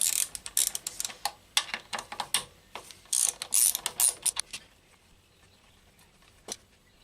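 A ratchet with a 12mm socket clicks rapidly in close bursts while removing the front brake caliper of a Honda CA Rebel 125 motorcycle, quick runs of sharp ticks that thin out to a few isolated clicks.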